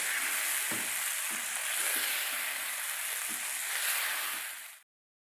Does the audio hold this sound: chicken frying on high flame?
yes